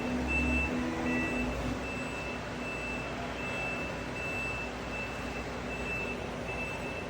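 A rubber-tyred telehandler lifts and sets down a 10 ft 220-ton CNC press brake outdoors, with a steady loud diesel engine rumble and a faint repeating beep running throughout.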